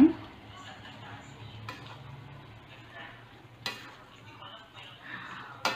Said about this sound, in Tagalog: Ayan, haluin lang natin ng maayos.